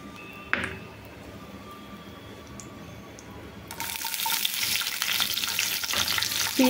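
Onions hit hot oil where mustard seeds have been spluttering, for an Odia vegetable rava upma. The pan is quiet at first, then a loud, steady, broadband sizzle bursts in partway through and keeps going close up, with no voices.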